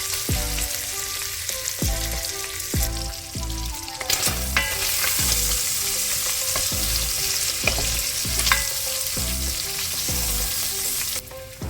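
Bacon frying in a pot, a loud steady sizzle broken by rhythmic scraping stirs and knocks of a utensil against the metal, close up with no voices.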